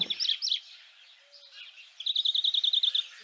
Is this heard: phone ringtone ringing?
no